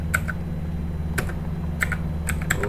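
Typing on a computer keyboard while configuring a network router: close, crisp clusters of keystrokes with uneven pauses between them over a low steady hum.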